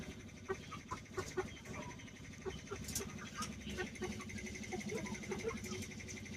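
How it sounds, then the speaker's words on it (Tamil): Guinea fowl calling repeatedly in sharp, scratchy bursts, fairly close, over a constant low drone of farmyard background. "கிணிக்கோழிலாம் அங்கிட்டு கத்திக்கிட்டு இருக்கு"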